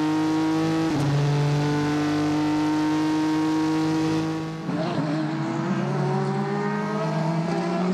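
A race car at the Nürburgring during the WEC 6 Hours, with the 97 Aston Martin and the 66 Ford running together, roars close by at high, sustained revs, its pitch dropping sharply on gear changes before it climbs again.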